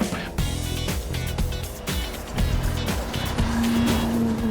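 A race car at a hillclimb roars past with a rising, rasping engine note and some faint tire squeal, and the steady engine noise carries on throughout.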